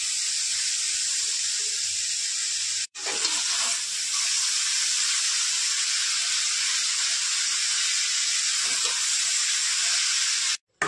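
Methi greens hitting a hot pan with garlic and salt, producing a loud, continuous close sizzle that breaks off briefly near the start and again at the end.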